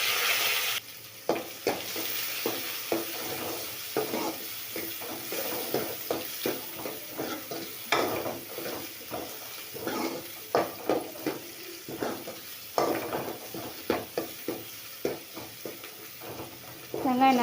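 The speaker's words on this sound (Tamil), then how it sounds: "வெங்காயம் நல்லா வதங்கட்டும்." Chopped onion with green chilli, garlic and curry leaves sizzles and fries in a pan as the spoon scrapes and stirs it again and again in a steady rhythm, close and clear, with no voices over it.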